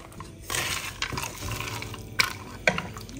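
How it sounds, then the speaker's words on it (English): Water is poured into a cooking pot of stew meat, a short splashing, trickling stream with a couple of brief clinks near the end, close and fairly clear. "Of course, I added a little bit of water"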